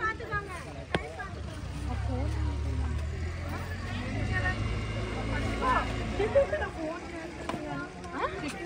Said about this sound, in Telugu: మనం కూడా అలాంటి మోటార్ బోట్ తీసుకునే పని కదా.